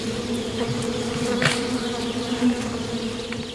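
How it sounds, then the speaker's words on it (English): Angry bees swarming around a wild hive torn open by a bear in the Russian wilderness, a dense continuous buzzing drone with a few louder close passes, no voices. "But there isn't much here, except angry bees."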